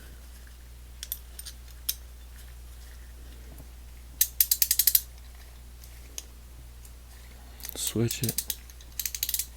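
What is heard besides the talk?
Proto 5249 ratchet gears clicking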